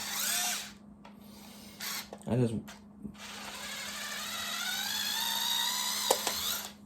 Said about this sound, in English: So I got my little handy-dandy electric screwdriver.